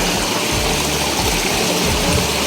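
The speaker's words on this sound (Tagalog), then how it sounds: "Andito na tayo sa sapa" A mountain stream flows with a steady, loud, continuous rush of water, close by and unbroken, with no voices over it.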